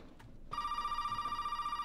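A telephone rings in the horror video game Resident Evil 7, a steady electronic trill that starts abruptly after a quiet half-second and holds continuously, loud and close, with no talking over it.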